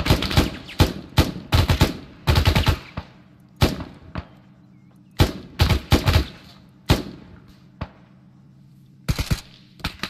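Repeated bursts of gunfire fired at players in a French-language online military shooter match, loud sharp volleys in irregular clusters separated by short gaps, with no talk over them.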